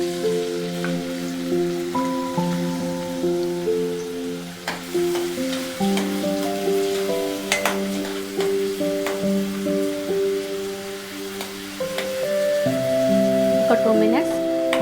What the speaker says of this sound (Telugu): ఆయిల్ వేడవగానే ఆనియన్స్ని వేసుకోవాలి.